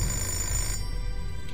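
Telephone ringing in the video game Fahrenheit, a steady electronic ring filling the whole stretch with no talk, its bright tone cutting off partway through while a low hum continues beneath.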